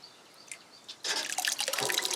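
Whey drips and trickles as milk curds are separated from it, with a few soft drips and then a sudden steady splashing of liquid. The sound is close and moderately loud.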